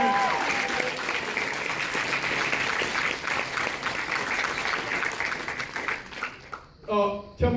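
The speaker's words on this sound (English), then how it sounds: "everybody give him a round of applause" A crowd at a private film screening and Q&A in New York gives a steady round of applause that fades out, with voices and a brief spoken remark near the end.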